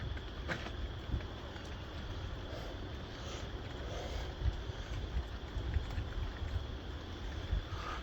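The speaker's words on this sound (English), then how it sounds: "now I can hear the wind." Wind blowing through willows and pine trees ahead of an approaching severe thunderstorm; steady, faint outdoor rushing with low rumbling gusts and no talk.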